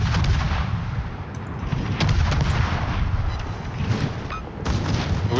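Warship guns fire in the World of Warships naval battle game, heavy booming salvos thudding repeatedly over a steady rumble, with sharp crackling impacts scattered through the sustained barrage.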